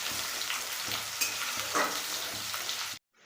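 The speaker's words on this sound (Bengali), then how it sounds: "পেঁয়াজটা আর তেজপাতাটা একটু ভেজে নিই।" Chopped onion and bay leaf frying in a pan for chicken soup, a steady close sizzle with light stirring scrapes running for about three seconds before cutting off.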